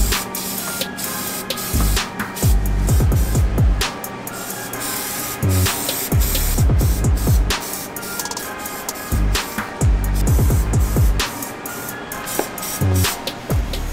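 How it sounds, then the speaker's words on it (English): Orange Plasti Dip hisses from an aerosol can in repeated loud bursts of a few seconds each, separated by short pauses and clicks as the nozzle is pressed and released. "I'm gonna flip them over, spray down the insides"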